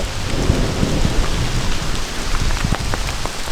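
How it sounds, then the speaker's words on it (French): Steady heavy rain pours down with a constant hiss and pattering drops, while low thunder rumbles underneath throughout. "on entend l'orage"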